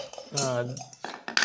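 Toy steel kitchen utensils from a children's play set clinking together, a few bright close metallic rings and knocks in quick succession, with a ringing tone lingering briefly.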